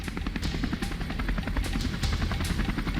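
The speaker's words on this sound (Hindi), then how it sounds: "आसमान में MiG-17, चिनूक और अपाचे का दम दिखा।" Military Chinook and Apache helicopters fly over a large army exercise in Rajasthan, producing a loud, steady rotor drone with rapid rhythmic chopping that continues without pause.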